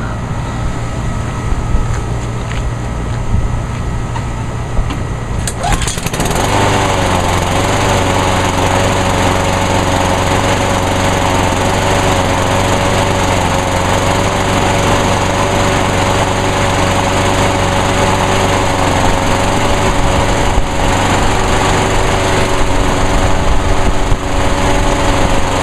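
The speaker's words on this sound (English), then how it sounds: "I'm just going to give the mower just one little quick start up, because I like to just run the engine just for a few seconds" Honda lawn mower engine pulled into life after an oil change, a loud steady drone with a constant whine that holds evenly once running, following a few seconds of quieter idle before start-up, with no talking.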